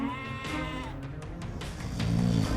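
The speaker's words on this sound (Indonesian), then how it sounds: "Betapa kambing itu menangisi anak-anaknya yang malang." Goat bleating in a long, wavering cry, a close and loud plaintive call that rises again near the end.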